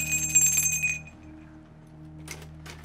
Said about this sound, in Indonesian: Di sini ada tandanya supaya mulai dari lonceng ini.